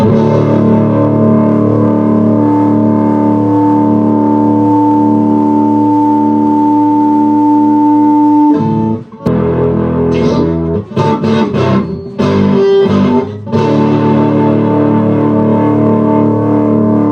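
Electric guitar played loud through a Vox amp and cabinet, a sustained distorted chord ringing for several seconds, then choppy bursts and stops before another held chord, close and full.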